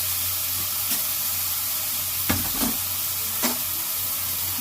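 Spices and vegetables frying in a pan for khesari dal and potato and pointed gourd fries, with a steady close sizzle broken by a few sharp stirring scrapes.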